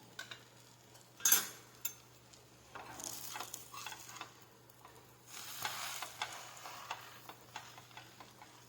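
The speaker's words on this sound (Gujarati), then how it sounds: "ઉપરની સાઈડ પણ આપણે આ રીતે બટર લગાવી દઈશું અને બંને સાઈડ શેકી લઈશું" Vada pav toasts in butter on a pan, Bombay street style, giving a soft, faint sizzle punctuated by occasional clinks and taps of a utensil against the pan.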